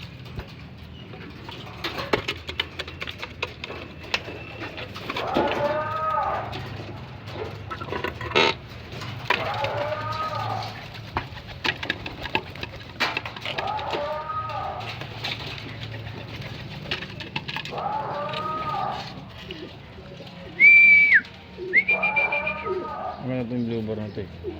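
Pigeons in a loft give repeated low coos at regular intervals before feeding, close by, with scattered knocks and rustling, a brief louder burst near the end, and someone talking intermittently.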